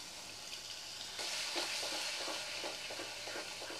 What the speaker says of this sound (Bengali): 2 মিনিট কষিয়ে নিয়েছি, এবার আমি টমেটো পেস্ট দেবো।